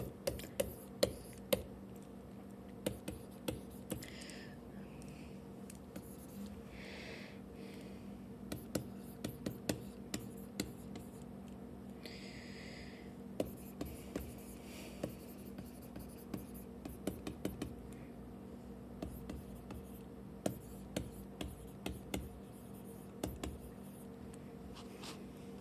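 Pen writing notes for a chemistry lesson on acid and base reactions: faint scratchy strokes and light taps in irregular short bursts, close up over a steady low background hum, with no talking.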